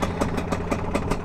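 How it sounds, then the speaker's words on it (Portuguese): MXF 250 two-stroke motorcycle just started on its electric starter, popping in a quick, uneven rhythm of sharp close bursts at idle. "A partida elétrica dessa moto é perfeita."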